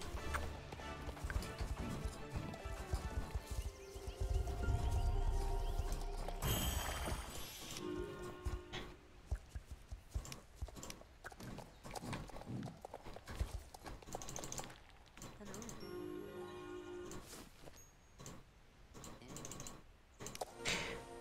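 Horse hooves clip-clop in Star Stable Online, a Paso Fino horse being trained, with a steady galloping rhythm under game music and keyboard tapping.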